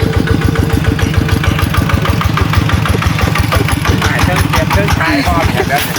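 A nearby car engine runs with a steady rapid chugging pulse in a rural northeastern Thai village, loud and constant, with faint background sounds mixed in.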